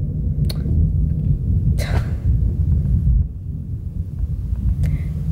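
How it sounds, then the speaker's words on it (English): Thunder rumbles close and heavy, a deep sustained roll with a couple of brief sharper cracks on top, continuing steadily for several seconds. "Woo, thunder."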